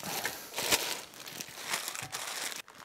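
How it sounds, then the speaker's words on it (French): Cardboard boxes holding standing desk parts are unpacked, giving close, continuous crinkling and rustling of cardboard and packing material with occasional sharper crackles and tears. "On va déballer les cartons dans le carton."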